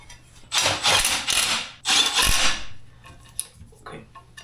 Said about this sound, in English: Let me bolt this down here real quick.